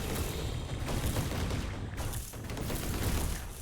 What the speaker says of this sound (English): Yeah, it's not big explosions, but holy cow, is there a lot going on there.